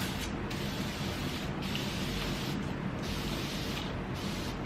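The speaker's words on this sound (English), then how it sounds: "first I'm gonna spray my face real fast." A face setting spray mists out in a few quick, soft hissing bursts close to the microphone, a faint, even spray sound with no one talking.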